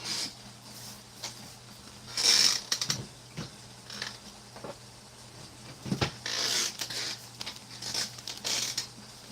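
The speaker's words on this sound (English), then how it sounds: "This creamer packet doesn't have a tear notch on it, so I will just cut it open." Someone cuts open a creamer packet from a 2019 US MRE ration. Close crinkling of the foil packaging comes with a few short, sharp cutting snips and rustles, with quiet pauses between them.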